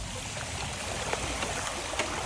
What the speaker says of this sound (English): This is the ocean. All this is the ocean.